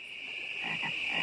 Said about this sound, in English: I'm a fan of the frogs on a log doing the Budweiser thing.